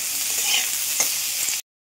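Apple pieces fry lightly in a pan for fruit chutney, giving a steady hissing sizzle with small scrapes of stirring before it cuts off abruptly.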